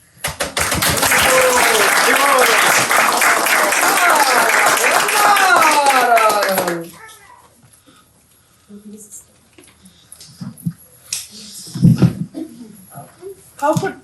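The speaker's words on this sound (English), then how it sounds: "The air is filled with the sounds of claps and cheers." A crowd claps and cheers at a cultural program after a ceremony, a dense burst of clapping with shouted voices that cuts off abruptly halfway, leaving sparse quiet sounds and some voices.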